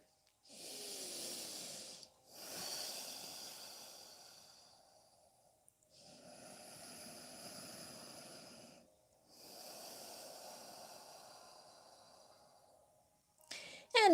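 Slow, deliberate inhale and exhale breaths during a standing yoga stretch in a class, several long breaths with quiet gaps between them, fairly close and soft, with no talking.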